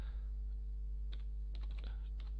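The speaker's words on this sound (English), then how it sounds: "so let's type our central concept here" A few scattered keystrokes on a computer keyboard while typing into an online concept-mapping tool, sparse soft clicks in short bursts over a strong steady mains hum.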